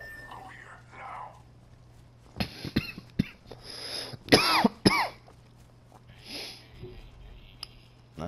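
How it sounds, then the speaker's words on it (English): A person coughs and clears their throat in a few short bursts, close and fairly quiet, mixed with soft whispery breaths and small mouth noises. "I started coughing."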